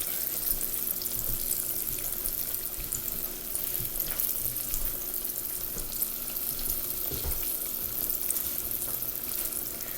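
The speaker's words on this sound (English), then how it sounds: "Can you guys hear that sizzling?" Steady, dense sizzling and crackling of eggplant frying in hot grease, continuous and close throughout with no voices.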